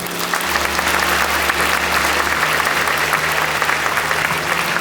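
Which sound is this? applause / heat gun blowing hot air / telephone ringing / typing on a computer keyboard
applause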